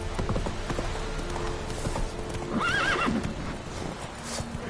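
In The Witcher video game, the horse Roach gallops with steady clip-clop hoofbeats and lets out a clear neigh midway, all set against a busy game soundscape.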